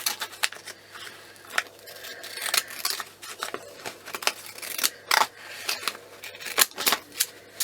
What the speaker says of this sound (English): just going to give this a bit of a snip, just so we can see just the beginnings of that